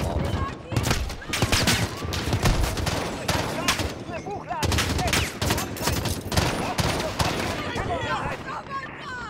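Rapid gunfire from a Call of Duty Modern Warfare mission in London's Piccadilly, with dense bursts and volleys running throughout under game voices and radio chatter.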